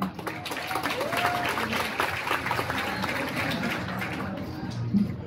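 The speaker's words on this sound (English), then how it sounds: "Let's give a round of applause to Director Jerome Fabona." Steady applause from an audience at a Philippine Army event, sustained and fairly even throughout, with a voice briefly speaking over the clapping.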